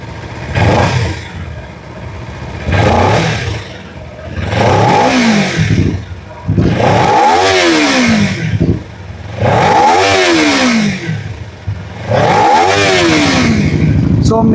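A 2026 Kawasaki Ninja 300 parallel-twin motorcycle revved repeatedly while standing, six loud close bursts of exhaust note climbing and falling, with rough idle between each blip.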